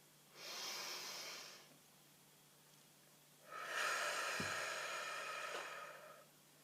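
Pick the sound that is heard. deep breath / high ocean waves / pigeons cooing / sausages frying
deep breath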